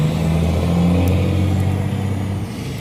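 A truck roars past close by on a road, a loud, steady engine rumble that fills the whole moment and eases off slightly at the end, with no voices.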